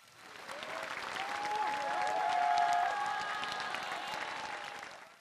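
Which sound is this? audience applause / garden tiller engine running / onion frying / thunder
audience applause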